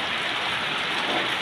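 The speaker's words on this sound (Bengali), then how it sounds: "দেখুন কি বৃষ্টি পড়ছে" Steady rain falls outdoors as a dense, even hiss with no pauses, close and fairly loud.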